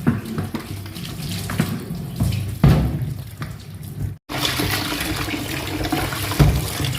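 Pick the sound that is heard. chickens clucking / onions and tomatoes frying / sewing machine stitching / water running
water running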